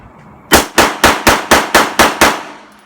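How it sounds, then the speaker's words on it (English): Seven rapid, evenly spaced pistol shots from an Avidity Arms PD10 ring out loud and close, each a sharp crack with a short decay, fired from a standard 1911 magazine. "PD10, first few magazines shot through it here on video."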